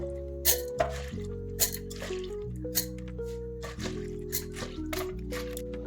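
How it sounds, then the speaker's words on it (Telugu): Soaked sorghum and black gram batter is mixed by hand, producing wet, squishy squelches and drippy smacks in an irregular rhythm, close and clear over a soft background hum. "ఇలా నానిన జొన్నలు మినపప్పును మిక్స్ చేసుకుంటాను"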